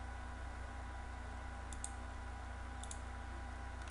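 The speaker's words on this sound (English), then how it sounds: "and click export." Computer mouse clicks in a quiet room, two faint pairs of quick sharp clicks over a steady low hum.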